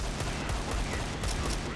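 Rapid M4 rifle fire in Counter-Strike, a short, dense, loud burst of overlapping shots with no talking.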